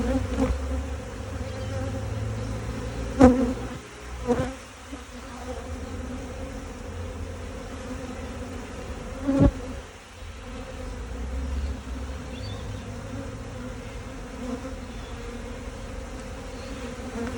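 Honey bees buzz steadily around an open hive during a brood inspection, a dense continuous hum close by with a few louder passes near the microphone.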